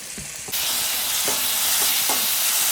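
Tomato, capsicum and green chillies drop into a pan of frying onion, setting off a loud, steady sizzle that swells sharply after a soft start, with a few stirring scrapes along the way.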